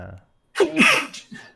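One person gives a single sharp sneeze, close and loud, with a short breath drawn in just before it, during a podcast conversation.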